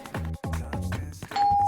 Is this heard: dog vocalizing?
no